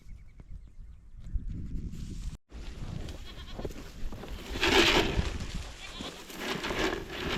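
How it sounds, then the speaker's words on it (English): Spring lambs bleating on a farm among green grass, a couple of clear bleats rising out of a busy outdoor background of rustling and movement, fairly close. "They're good spring lambs here."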